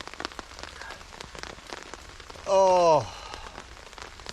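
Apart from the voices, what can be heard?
rain falling on a tarp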